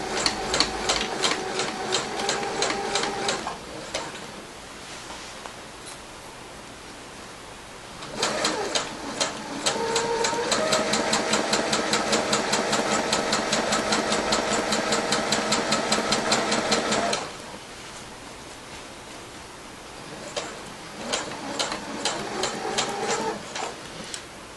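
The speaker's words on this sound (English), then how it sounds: "right now I'm just sewing in the baffles" A sewing machine stitching baffles into a down hammock underquilt made of Argon 67 fabric, running in several bursts of steady rapid needle clatter, the longest lasting close to ten seconds, separated by quieter pauses.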